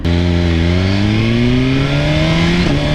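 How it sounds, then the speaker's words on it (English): A 2023 Suzuki GSX-R 1000 sportbike pulls away with a loud, close engine note that climbs steadily and smoothly through the revs, with no talk over it. "Pretty smooth takeoff."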